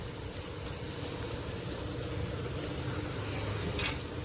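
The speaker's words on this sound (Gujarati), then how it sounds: "ચાલો તો આપણે રાઈ મસ્ત તતડી ગઈ છે" Mustard and cumin seeds crackling in hot oil, a steady close sizzling hiss with faint pops and one brighter crackle near the end, no voices.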